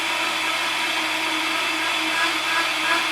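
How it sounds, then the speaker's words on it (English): A blender whirs steadily through cauliflower soup in a home kitchen, a loud, even motor drone with no break for about three seconds and no voices. "let's get this blended up"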